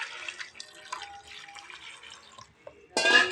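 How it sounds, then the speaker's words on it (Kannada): Hot water poured for washing with salt runs and splashes faintly and unevenly, ending in a brief louder gush. "ಅದರ ನಂತರ ಬಿಸಿ ನೀರು ಉಪ್ಪು ಹಾಕಿ ತೊಳಿಬೇಕು."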